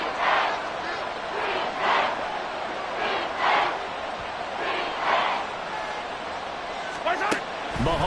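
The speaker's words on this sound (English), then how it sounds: "This crowd turning up the decibel level." Stadium crowd noise in an American football video game, a swelling roar that rises and falls in repeated waves beneath a commentator's play-by-play.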